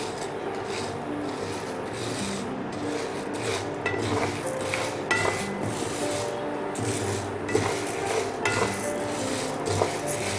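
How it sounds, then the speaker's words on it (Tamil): Urad dal being stirred as it roasts in oil in a pan over medium heat, giving a steady scraping and rubbing with light metallic clinks of a spoon against the pan, close and continuous with no talk. "கோல்டன் ப்ரௌன் கலர் ஆகிற வரைக்கும் நம்ம இது கிளறி விட்டுட்டே இருக்கணும்."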